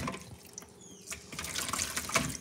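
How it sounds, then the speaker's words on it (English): Excess water poured off soaked sea moss into a sink, a steady splashing trickle that grows fuller and louder toward the end. "I'm going to just pour that off now. Pour off all that excess water, squeeze it out."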